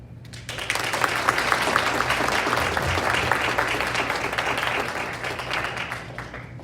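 An audience at a board of education meeting breaks into a sustained round of applause, dense clapping swelling in quickly and holding steady for several seconds before tapering slightly.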